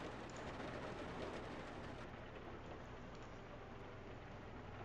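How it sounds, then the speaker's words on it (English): Steady rain falls in a World War II video game, a dense, even hiss of drops filling the scene at a moderate, distant level with no speech. "although I know it's raining outside"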